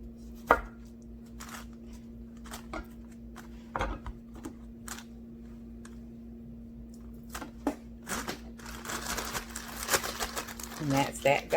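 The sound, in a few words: knife slicing fruit for spa water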